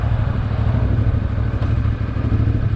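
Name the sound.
CF Moto 450 MT motorcycle riding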